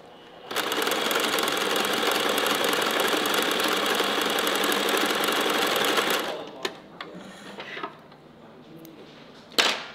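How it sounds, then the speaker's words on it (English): A sewing machine stitches a zigzag edge along a 3/8-inch seam in a fast, even mechanical chatter for about six seconds, then stops and leaves a few soft clicks and handling noises. "Then I go to the machine and I do my zigzag edge."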